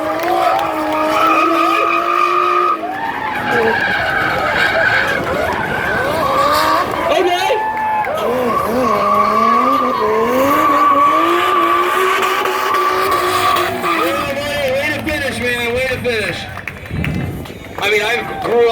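Drift cars slide around a track at a night drift event, with sustained loud tire squeal and wavering engine revs over several seconds while a commentator talks over the action.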